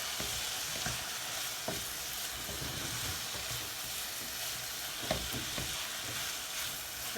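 Mushrooms for a vegan stifado sizzle in a pan: a constant, soft frying hiss with faint occasional ticks and stirring, steady throughout and without any voices.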